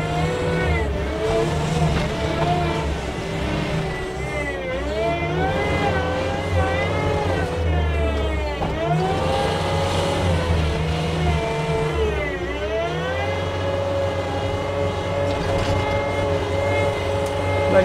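A 2019 Kubota SSV65 rubber-tire skid steer loader idles and revs steadily and nearby, its engine note rising and falling for the whole stretch, with faint voices underneath.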